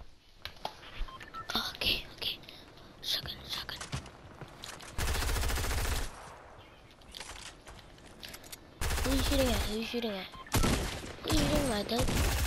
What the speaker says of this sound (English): Who's shooting at my dude?